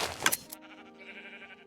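A Minecraft sheep bleats once, a short nasal wavering call following a brief loud clatter at the start, heard clearly with no talking.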